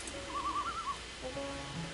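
Birds call in the point-and-click adventure game The Whispered World, a soft run of quick, warbling hoots followed by a few fainter, thin calls over quiet background ambience.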